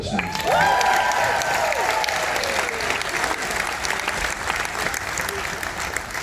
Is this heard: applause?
yes